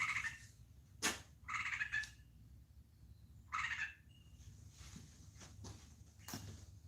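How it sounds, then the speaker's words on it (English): A bird living inside a garage gives several short, raspy chirping bursts at irregular intervals, fairly faint, amid soft knocks and shuffling in the enclosed space. "I got a bird living in my garage."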